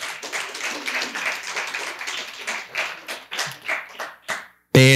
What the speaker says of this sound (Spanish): Ahí sí, un aplauso bien grande de la Señor.